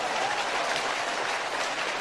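Steady, dense clapping from a large crowd at a BJP election rally in Gohad, Bhind, loud and continuous throughout, with no voices standing out.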